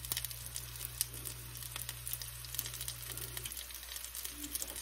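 Gyoza dumplings pan-frying in a thin layer of grease, a continuous close sizzle with faint crackles and pops over a steady low hum, no one speaking.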